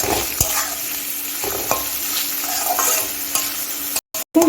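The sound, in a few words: onion frying in oil with fried garlic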